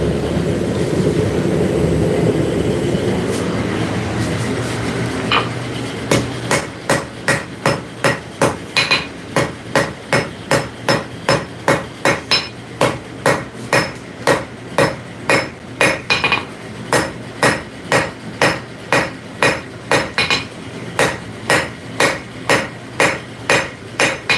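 Ringing hammer blows strike metal in a steady, rapid rhythm on a forge in a hot shop. A low rumble fills the opening seconds before dozens of sharp, evenly spaced strikes ring out, loud and close.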